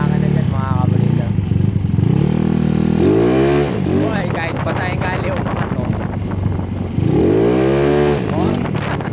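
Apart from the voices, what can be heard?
motorcycle with 196cc square engine riding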